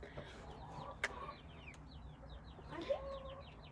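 Chickens cluck and call softly inside a farm chicken pen, a few short separate vocalizations over a quiet, low background hum.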